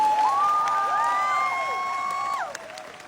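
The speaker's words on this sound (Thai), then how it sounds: "ปรบมือให้สายเลือดใหม่ต้อนรับอย่างอบอุ่นครับ" A crowd at a political party event welcoming new candidates claps and cheers, with loud whistle-like tones gliding over the applause before it drops off near the end.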